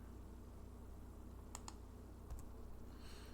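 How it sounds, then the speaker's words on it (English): A few quiet, isolated computer keyboard key presses, such as a delete key being tapped, click faintly over a steady low room hum. "I'm going to hit the back delete key to remove any enter keys."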